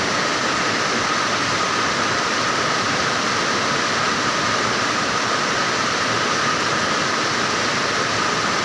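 Floodwater in a swollen creek rushes in a loud, continuous, roaring wash of broadband noise with no breaks and no voices.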